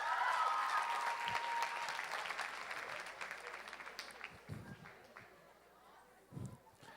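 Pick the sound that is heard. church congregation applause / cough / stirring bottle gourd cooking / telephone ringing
church congregation applause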